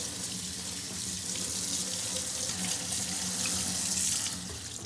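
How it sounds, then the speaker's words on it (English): Tap water runs steadily into a sink over rinsed pumpkin seeds in a strainer, a continuous close hiss and splash with no talk. "you're gonna take these seeds and you're gonna run them underwater in a strainer"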